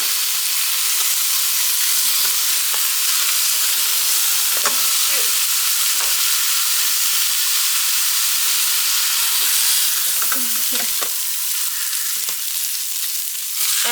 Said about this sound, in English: I'm just going to sear it on each side